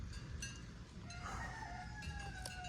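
A rooster crows once at a distance, faint over steady low background rumble on a farm where a three-legged goat lives.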